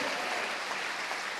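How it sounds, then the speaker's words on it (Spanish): Strong applause from a church congregation during a sermon, a steady, dense wash of clapping that fills the whole moment without any talk over it. "dele un fuerte aplauso a ese Señor"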